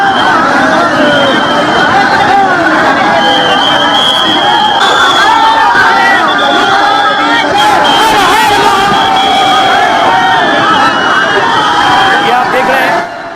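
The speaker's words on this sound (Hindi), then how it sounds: "भीड़, काशी में लाखों लोग पहुंच गए, सैलाब पहुंच गया है भक्तों का" A huge crowd of devotees packs Kashi Vishwanath in Varanasi, a dense, continuous roar of chatter and voices with occasional whoops and cheers, loud and close throughout.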